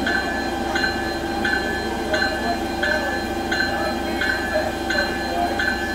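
A train rolls steadily with a low rumble, a regular rhythmic clatter and a faint high tonal whine, as an NJ Transit train pulls into Trenton station on the Northeast Corridor in Train Simulator 2016.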